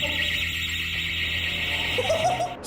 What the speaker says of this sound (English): things get real when they set an alarm off after yanking open one particular door